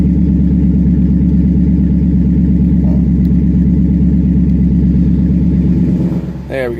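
A 2009 Dodge Challenger SRT8 idles loud and close, its engine and exhaust giving a deep, steady, throbbing rumble. The rumble drops off near the end.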